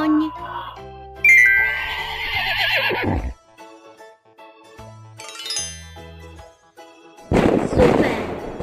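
A horse neighs loudly with a whinnying trill in a children's puzzle game, followed by a quieter game-like jingle and tones, then another burst of neighing near the end.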